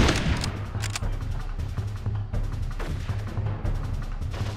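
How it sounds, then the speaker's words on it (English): Rapid bursts of assault rifle fire from the World War I–era shooter Darkest of Days, a dense, continuous fusillade of overlapping shots with a low rumble underneath, loud and close throughout. "the asshole of the assault rifles shooting at Dexter"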